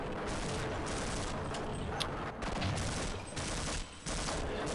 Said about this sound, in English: Try the shotgun against this bloke.